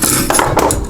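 A metal cooking rack for a Ninja Foodi is picked up and set in place, giving a quick series of close, loud clanks and scrapes in a kitchen.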